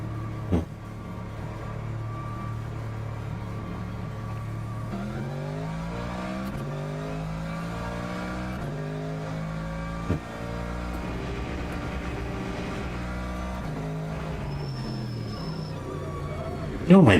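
Car engine in a racing video game rises and falls through repeated revs and gear changes, a steady mid-level drone with no break that sits under the game's other sounds.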